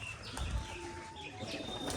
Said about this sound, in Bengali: একটা পায়রা দেখাচ্ছি, দেখুন ঝুটি পায়রা